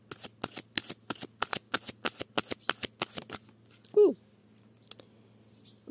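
A deck of tarot cards being cut and riffled, a quick run of about a dozen crisp card flicks in steady rhythm, close and clear, followed by a few scattered taps and a short faint vocal sound.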